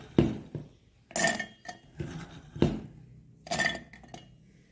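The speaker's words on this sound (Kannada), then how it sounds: "ನಾನು ನೆನೆಸಿ ಇಟ್ಕೊಂಡಿರೋ ಕಡಲೆಕಾಳನ್ನ ಹಾಕ್ಕೊಳ್ತಾ ಇದ್ದೀನಿ" Soaked chickpeas dropping into a steel mixer jar, giving a series of clinking, rattling bursts close by, arriving in about four separate pours with short pauses between.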